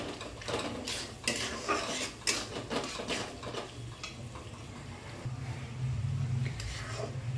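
Spiced okra curry being stirred in a pan with coriander powder and whole garam masala powder, a steady scrape and clink of the spoon against metal repeating for several seconds under a low background hum.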